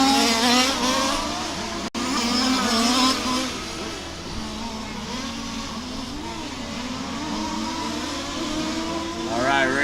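Race cars circling a track with a front-stretch chicane at a club race, engines droning and shifting pitch as they pass at mid distance, under a commentator's continuous talk.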